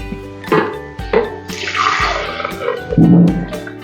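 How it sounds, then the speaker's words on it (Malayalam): Milk poured into a kitchen mixer jar, a short liquid gush with some clinking and handling noises at home. "പാലൊഴിച്ച് കൊടുത്തിട്ടുണ്ട്"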